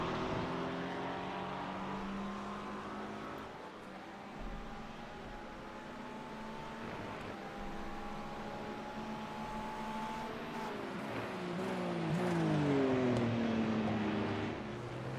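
Race car engine sounds during a GT3 pit stop at the Red Bull Ring in a racing video game: a steady mechanical drone with a rising whine, swelling louder near the end as the car pulls back out.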